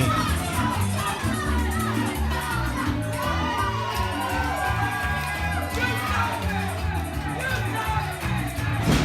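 A crowd at a Platinum Pro Wrestling event cheers loudly and steadily for a young wrestler, a dense roar of voices, shouts and whoops that stays constant from start to finish.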